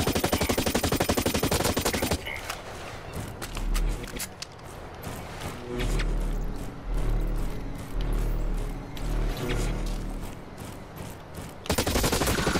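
Sustained automatic gunfire from the first-person shooter game Blacklight Retribution, rapid bursts rattling steadily through the middle of the clip with heavy low rumble, bracketed by louder game sounds at start and end.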